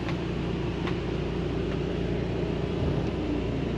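A 2010 Coachmen Freelander Dreamer 30QB Class C motorhome with 48K miles rolls along a road, giving a constant low rumble of engine and road noise from inside the cab, steady and without talk.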